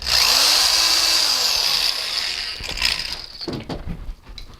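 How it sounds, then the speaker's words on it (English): A power drill whines loudly as it bores a hole through stacked PET plastic bottle pieces for a bird mobile, the motor dropping pitch as it bites, then spinning down into a few rattling clicks and handling noises. "Drill your hole through all three."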